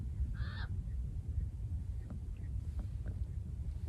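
At Dungeness Spit a single honking bird call stands out early against low wind rumble, followed by a few faint, scattered chirps in a quiet outdoor setting.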